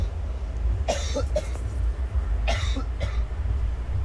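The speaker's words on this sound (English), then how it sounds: "The coughing." Two short bursts of coughing, each a quick pair of harsh coughs, heard close over a low steady rumble.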